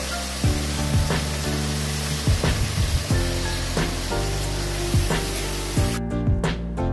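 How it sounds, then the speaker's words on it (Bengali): Chopped water taro fries in hot oil tempered with black cumin seeds, giving a continuous loud sizzle and hiss with occasional soft knocks, all without talk. "তারপর কালো জিরা সম্বার দিয়ে কেটে রাখা জলকচুগুলো ভেজে নেব।"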